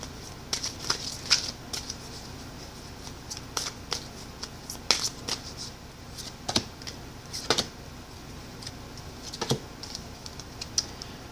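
Tarot cards being shuffled by hand, a quiet run of soft riffles and crisp card snaps at an irregular pace, close up with no talking.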